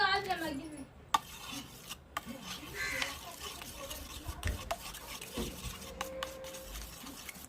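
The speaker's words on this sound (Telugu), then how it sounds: "ఓకే అండి ఈ విధంగా కలిపేసుకొని" Curry is stirred and mixed in a pan, heard as close, faint scraping and rubbing strokes with occasional clinks of a utensil against metal.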